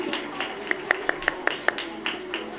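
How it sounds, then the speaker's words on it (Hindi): Sparse clapping from an audience at a school annual function, about half a dozen distinct sharp claps in a loose rhythm over a background murmur, fairly faint and close by. "भरपूर तालियों में आती है मिस शाजिया और उनके स्टूडेंट्स"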